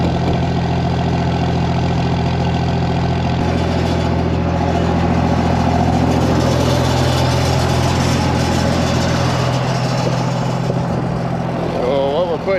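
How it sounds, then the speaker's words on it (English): A pump runs steadily, drawing 32% liquid nitrogen fertilizer out of a tanker for a sprayer, making a loud, continuous mechanical drone with an engine-like rumble throughout. "You got that pump turned on, so be pumping right from the tanker there."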